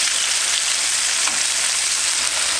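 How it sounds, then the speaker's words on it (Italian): Tomatoes and bread fry in a pan over a high flame, a loud, dense, unbroken sizzle like heavy rain that holds steady throughout. "Dopo averli fatti sfrigolare per circa un minuto vado a rigirarli"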